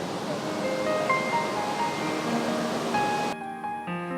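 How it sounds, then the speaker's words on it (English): A waterfall in Da Lat roars as a broad, steady wash of falling water. Faint tonal sounds ride over it before the roar cuts away abruptly near the end. "So here's the waterfall."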